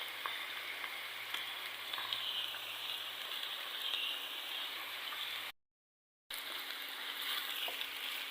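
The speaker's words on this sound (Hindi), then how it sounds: "तो इस तरह से हल्का हल्का बिल्कुल 1-1 2-2 मिनट के लिए फ्राई करेंगे" Vegetables and lengthwise-sliced green chillies fry in a pan with a steady, soft sizzle that crackles evenly throughout and stops briefly near the end, heard alone without talking.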